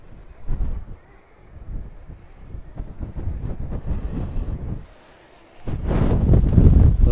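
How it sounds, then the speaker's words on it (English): Strong wind gusts on a hilltop at Ross Castle in Northumberland, buffeting the microphone with loud rumbling bursts. A brief calm comes before a heavy gust rises near the end. "The wind really is picking up."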